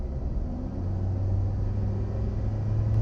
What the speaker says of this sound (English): there's definitely more induction noise